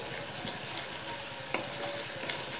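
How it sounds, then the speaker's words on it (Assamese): Fried tomatoes tipped into a hot pan for an Assamese curry, a steady close sizzle and frying hiss with light stirring scrapes and a brief clatter midway. "এইখিনি এতিয়া আমি ভাজি থকা বিলাহীখিনি ইয়াতে দি দিম"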